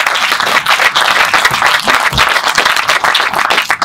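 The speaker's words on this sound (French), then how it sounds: "Applaudissements pour Laila, s'il vous plaît." Conference audience claps for the speaker Laila as she takes the stage, a sustained crowd applause with sharp overlapping hand claps, loud and near.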